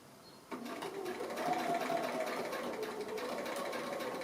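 A domestic sewing machine stitches a curved seam on a small quilted ornament or gift tag made from 2 1/2" fabric squares, running steadily at close range after a sudden start.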